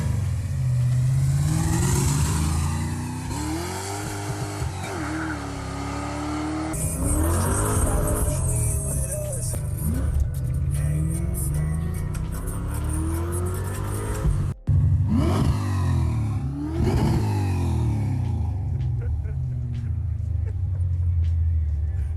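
A car engine revs hard to about 7,000 RPM, climbing and dropping repeatedly, loud and close, with brief pauses between pulls.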